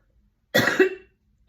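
A single burst of coughing, loud and close, lasting about half a second, followed by silence.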